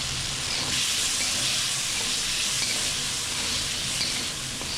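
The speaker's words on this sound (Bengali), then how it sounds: "ঝোলের জন্য আমি আলুকেও একইভাবে ভেজে নিব হলুদ আর লবণ দিয়ে" Potatoes fry in hot oil in a pan with turmeric and salt, giving a steady, close, even sizzle that continues without a break and with no voices.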